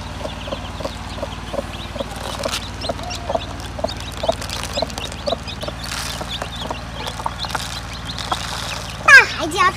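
Newly hatched native chicks cheep in rapid, high chirps throughout while they peck at scattered feed, with people talking nearby and a louder flurry of chirps near the end.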